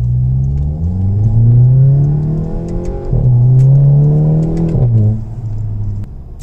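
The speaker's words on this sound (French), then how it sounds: "c'est l'avantage de la demi-ligne, hein, c'est que ça pète à chaque rapport" A Volkswagen Golf GTI engine revs hard up through the gears, with sharp crackling pops from its half-line exhaust at each of two shifts.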